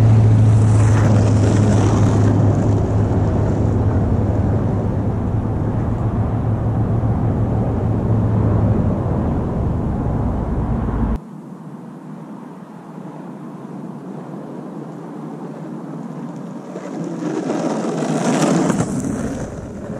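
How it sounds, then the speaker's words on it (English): Shark Wheels skateboard wheels roll over a rough, choppy, cracked street, giving a loud continuous rumbling roar that drops sharply partway through, then swells again near the end, with no voices. "These wheels just plow through this choppy street like it's nothing."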